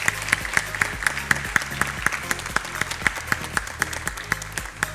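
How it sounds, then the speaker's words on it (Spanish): A crowd at a kindergarten graduation ceremony claps for a graduate, steady dense applause that carries evenly at close range for several seconds. "fuerte aplauso para este egresado"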